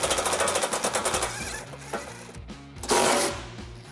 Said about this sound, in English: Using a 14mm socket, we'll remove a bolt, another bolt here, and lastly a nut on this side.